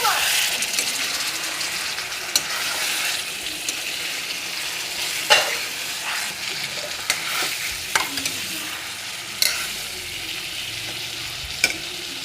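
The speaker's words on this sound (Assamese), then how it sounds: "তাৰপিছত এইফালে মাছ বহাই দিছোঁ।" Fish fries in a pan with a continuous crackling sizzle, broken by occasional sharp clinks and spatters and some utensil movement, steady and fairly close throughout.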